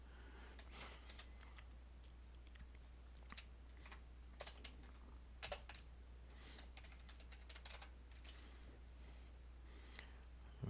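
Rapid typing on a computer keyboard while writing C# code, with irregular bursts of crisp, close key clicks over a faint, steady background hum and no speech.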